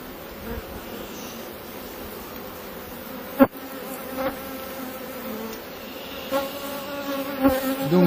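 Bees swarm and hum around an opened beehive frame, a dense, steady buzzing close by with a few sharp taps and louder passes from bees flying near, no talk.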